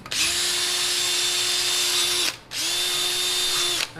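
A power drill fitted with a brass wire brush attachment runs in two long steady bursts, a loud whirring tone with bright scratchy brushing noise, stopping briefly between them.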